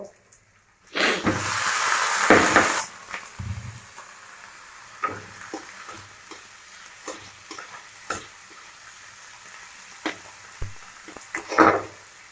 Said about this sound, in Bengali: এরপরে একটু হালকা হালকা করে ভাজছি কারণ পুড়ে গেলে ভালো লাগবে না